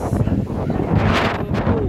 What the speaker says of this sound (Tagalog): The wind is freaking strong.